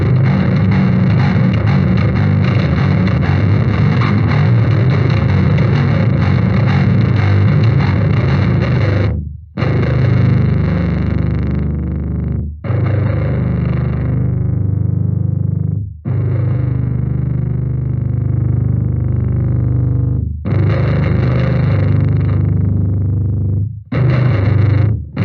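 Bass guitar played through an R.Attack Little Bear distortion bass pedal, with very low, heavy, mildly distorted sustained notes in loud phrases broken by abrupt short silences, with no talk.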